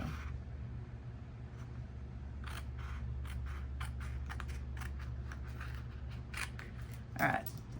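Scissors snip through a gift box craft piece with a series of short, crisp cuts over a steady low hum, ending in one sharper, louder snip.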